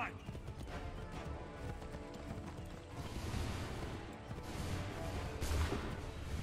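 Rhythmic hoofbeats of a galloping horse in Assassin's Creed III Remastered pound beneath game music and ambient noise, with a faint voice in the background.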